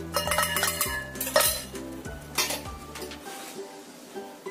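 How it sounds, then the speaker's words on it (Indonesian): Chocolate brownie batter for steamed brownies is stirred in a bowl, producing soft scraping and a few clinks against the bowl at close range, with background music playing underneath. "Ini saya campurkan semua bahan coklatnya ya"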